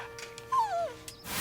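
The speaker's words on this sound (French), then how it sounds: "je suis en train de jouer avec mon chien" A dog whimpers during play with its owner, letting out a single high, falling whine between faint yips, close and quiet.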